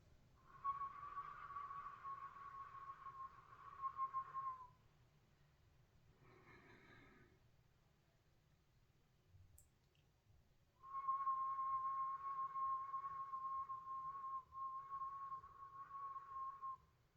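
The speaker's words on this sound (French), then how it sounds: "À l'expiration, on va expirer en sifflant." Two long whistling exhales through pursed lips during a pranayama breathing exercise, soft and steady, separated by a quiet breath in.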